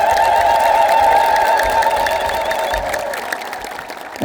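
A congregation at a religious feast bursts into loud, sustained clapping mixed with high, wavering ululation, the crowd noise filling the space and slowly easing off.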